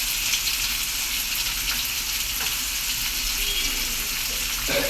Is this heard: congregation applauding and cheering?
no